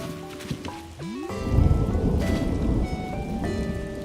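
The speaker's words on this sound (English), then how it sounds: "I want to hear that thunder and lightning." Rain and a thunderstorm in Animal Crossing: New Horizons: steady, dense rainfall hisses on surfaces while a deep thunder rumble builds and rolls on, with light tonal game music running underneath and no talk.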